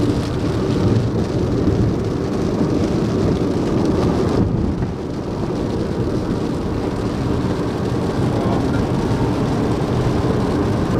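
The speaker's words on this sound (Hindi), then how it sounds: "बारिश का नाम लिया और बारिश हाजिर।" Heavy rain pours down steadily on the road near Sangli, India, making a loud, continuous wash of noise with a low rumble throughout and no pauses.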